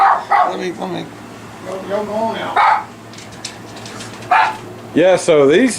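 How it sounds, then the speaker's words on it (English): A pet dog named Darlene barks and yips in short bursts near someone talking casually indoors. Her calls alternate with his speech. "That's my dog."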